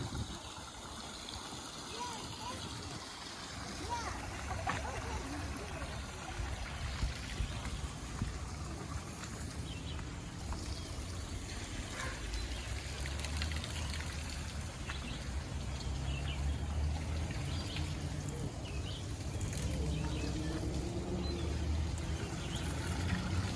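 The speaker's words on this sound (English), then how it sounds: "And so this is the old water wheel back here at the Edisto River." An old water wheel turns at the Edisto River in a memorial garden park, its steady churning and splashing water running continuously at moderate level under occasional talk.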